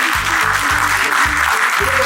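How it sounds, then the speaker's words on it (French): Applause from a gathered crowd at a surprise birthday and retirement send-off, a steady dense wash of clapping throughout, with a low rhythmic musical thump pulsing underneath. "Je vais demander l'applaudissement"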